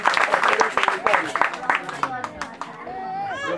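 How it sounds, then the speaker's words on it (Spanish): Applause from a gathered audience honoring a doctor, dense overlapping claps with chatter and voices mixed throughout, fading toward the end as a single voice rises. "Fuerte aplauso para la doctora"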